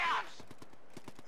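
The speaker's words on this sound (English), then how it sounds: "Small arms fire!" Small arms fire in the video game Company of Heroes 2, a quick rattle of distant rifle and machine gun shots in an uneven rhythm, heard just after a brief loud vocal outburst.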